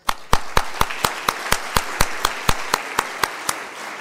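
Audience at a 2012 WACSSO conference presidents' speech claps in a steady, rhythmic applause, sharp regular claps about every quarter second, loud and close, with no talking over it.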